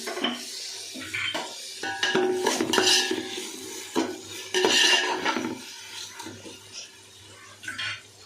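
Tomatoes with a little salt cooking in a pan for chicken biryani, with repeated clanks and scrapes of a metal spoon stirring against the pan and a faint sizzle beneath, irregular and close.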